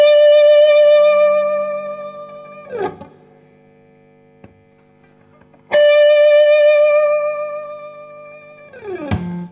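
Electric guitar driven through a Boss BD-2w Blues Driver pedal in custom mode with distortion: two sustained, harmonically rich chords ring out and decay, each ending in a scraping choke, with a quiet gap between them.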